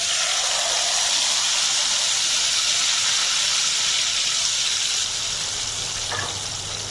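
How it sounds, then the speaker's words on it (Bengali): Mashed tomatoes dropped into hot oil over lowered heat, a loud, close, continuous sizzling hiss that holds steady and eases slightly toward the end. "এবার দিয়ে দিচ্ছি ম্যাশ করা টমেটোগুলো"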